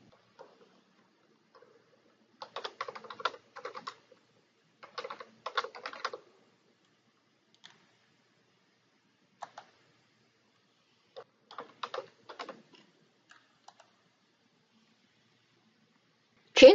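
Someone types on a computer keyboard while entering source details into reference software: short, quick bursts of clicking keystrokes separated by quiet pauses, with a single louder knock at the very end.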